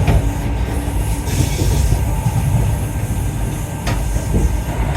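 Steady low rumble of a passenger train in motion along the Dawlish seawall, with continuous wheel and carriage noise and faint clatter, heard from on board.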